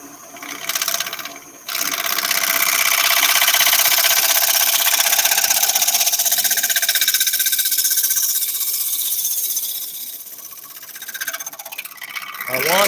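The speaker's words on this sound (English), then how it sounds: "I'm just gonna leave the grinder running" A bench grinder runs in a woodturning shop, a loud, bright, steady whine with harsh grinding texture that swells and eases as a tool is pressed to the wheel, with talk faintly present.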